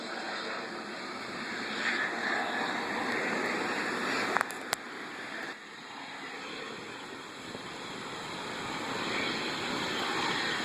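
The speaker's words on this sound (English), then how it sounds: "That loud noise is the pulp mill" A steady low industrial drone and hum of a distant pulp mill's machinery near the Reversing Falls in Saint John, New Brunswick, continuous and broad, with a couple of faint clicks.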